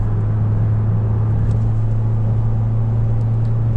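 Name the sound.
wind noise in car at highway speed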